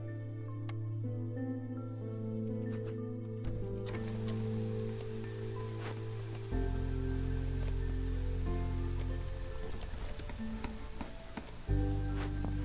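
Steady rain hiss plays in the settlement-building game Against the Storm while a rain engine runs. It sits under layered tonal game music that shifts in several steps.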